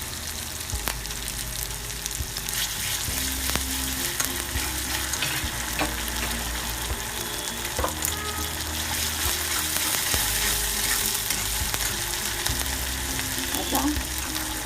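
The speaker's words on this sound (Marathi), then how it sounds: "आता आपण याच्यामध्ये 1 चमचा आलं लसूण पेस्ट टाकूया" Ginger garlic paste fries in a pan for a Marathi shev upma breakfast, a steady broadband sizzle with occasional stirring scrapes and clicks, alone and fairly loud throughout.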